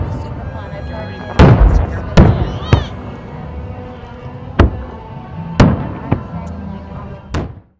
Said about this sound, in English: At 9:15, the fireworks show began.